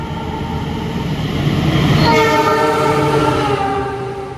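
The Gajayana passenger train roars past loudly at speed through Kutowinangun station, Indonesia, its horn sounding in a sustained chord as the rumble swells and then fades.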